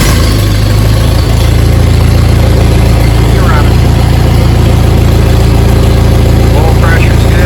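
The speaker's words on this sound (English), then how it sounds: "So now we're just going to go ahead and fire it up here" An Allis Chalmers D17 tractor engine runs loud and close with a heavy low rumble. It settles into a steady idle through the whole stretch, and a voice speaks briefly over it.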